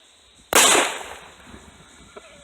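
A single sharp gunshot from a Remington 870 shotgun or LC9s Pro pistol hits a bag of flour. The loud, close crack is followed by a long, fading rumble and a faint click near the end.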